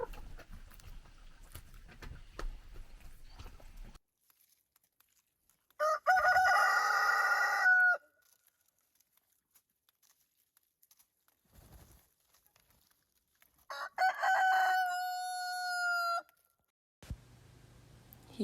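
A rooster crows loudly twice on a Canadian homestead in extreme winter cold, with long quiet gaps between the crows and low background noise before them.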